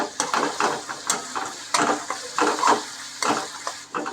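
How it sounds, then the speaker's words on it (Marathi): A paste of green chili, garlic and ginger sizzles in hot tempering oil, punctuated by about a dozen rhythmic spatula scrapes against the pan, close and clear with no talking. "मिरची लसूण अद्रक याचं आपण हे हे केले वाटण केले आणि याला मस्त की फोडणी देऊन घेतो"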